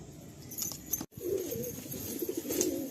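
Pigeons kept in a loft for sale coo softly throughout, with a steady murmur of calls and one brief dropout near the start.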